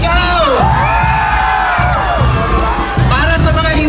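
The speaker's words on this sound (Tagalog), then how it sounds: "Para sa mga masayang maging single, sumigaw!" A large crowd at a festive gathering shouts, whoops and cheers loudly all at once, a dense sustained roar of many voices close by with higher individual yells rising above it.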